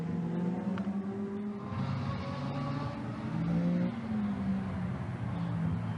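GT3 race cars, including an Audi, run on the track at Brno in a 2010 FIA GT3 race, a steady engine roar with rising and falling pitch as cars pass, loud and continuous.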